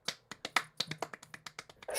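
Sharp percussive claps or snaps in a rapid, uneven beat, about a dozen crisp hits over two seconds, close and alone, mimicking a rhythmic track like commercial music.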